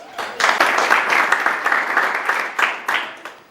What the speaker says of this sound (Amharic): ለእነሱ እናጨብጭብ